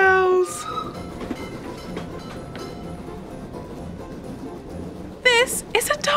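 A toy candy cane train sound effect plays a rumbling clickety-clack of rolling wheels, then ends with bright jingling bells and a whistle-like toot.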